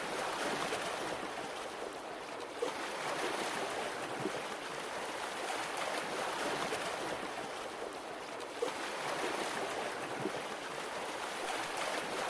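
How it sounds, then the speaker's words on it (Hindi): Small wooden boat moving out across a river, water swishing and lapping steadily around the hull, soft and continuous with no voices. "वो अपने नाव से नदी में मछली पकड़ने नदी के बीचों बीच जाता है।"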